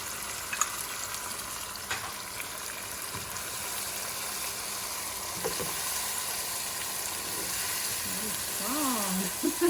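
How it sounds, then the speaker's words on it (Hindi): Eggplants hit hot oil with a steady, moderate sizzle and crackle, with a few clinks and stirring sounds over it and a voice briefly heard near the end. "और अब मैंने इसमें बैंगन डालने शुरू कर दिए।"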